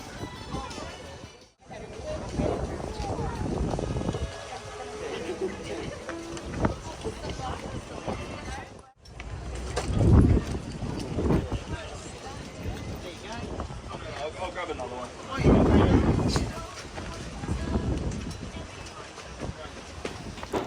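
Strong wind sweeps across an outdoor weekly Saturday market in Australia in late-morning sun, buffeting the microphone in heavy low rumbling gusts beneath continuous talking.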